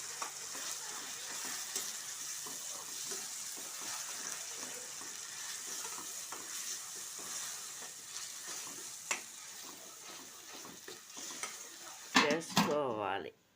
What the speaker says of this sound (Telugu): ఆనియన్స్, కొత్తిమీర, వెల్లుల్లిపాయ, అల్లం అన్నమాట మిక్సీ కలిపి పెట్టినది ఫ్రై చేసుకోవాలి ఇట్లా.